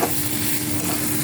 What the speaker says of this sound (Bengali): এটা খুব ভালোভাবে ভাজতে হবে। চালগুলো যত বেশি ভালো ভাজা হবে, পোলাওটা তত বেশি ঝরঝরে হবে।